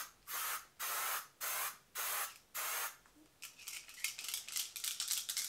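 Kate Somerville SPF 50 sunscreen spray spritzed in five long, even hissing bursts, followed by a run of quicker, shorter sprays, close and clear with no talking.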